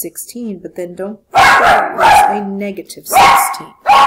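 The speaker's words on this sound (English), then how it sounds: "I apologize for the dog barking there." A dog barks in two loud, close bursts between stretches of a voice during a home math lesson on two-step equations.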